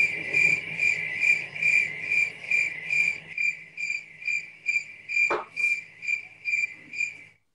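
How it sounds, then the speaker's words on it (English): Crickets chirp at night in a steady, pulsing trill, close and clear, with a faint background hum that drops away partway and one brief sharp click. "Can you listen to the crickets with me?"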